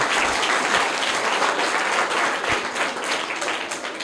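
Loud, dense applause from an audience at a children's quiz competition fills the whole stretch, a continuous wash of many hands clapping with no talk over it.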